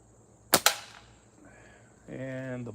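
A slingshot shot striking a can outdoors: two sharp, close snaps a fraction of a second apart, then a short stretch of quiet before a voice begins speaking.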